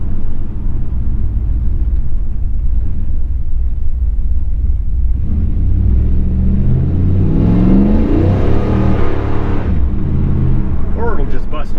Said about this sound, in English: Sometimes, depending on the engine load, it'll chirp the tires on the 1-2 shift.